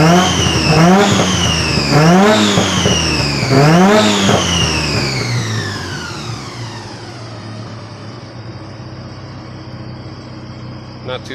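The newly installed engine in a Mazda FC revs up several times in rising sweeps, loud and close, then falls back to a steady idle that carries on more quietly.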